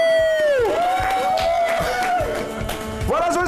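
A TV studio audience cheers and applauds during a birthday tribute on a French-language broadcast, with a steady crowd roar throughout, loud and close, with sustained tonal music or voices above it.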